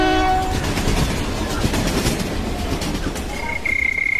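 A train pulls out in a Bengali ghost audio drama: a horn blares at the start, then loud rumbling wheels and clickety-clack roll on steadily, with a high whistle-like tone near the end.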